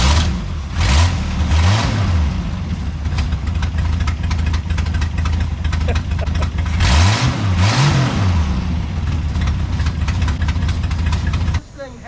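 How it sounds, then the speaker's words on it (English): A classic Ford car engine idles loud and close and is revved twice, rising and falling each time. The throttle may be sticky, and a voice talks briefly over the engine. "we'll give this thing a few revs."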